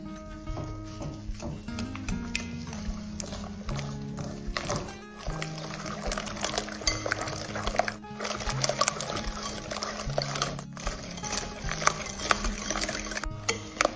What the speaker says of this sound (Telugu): 1 table spoon vinegar, half table spoon baking powder వేసి బాగా మిక్స్ చేసుకోవాలి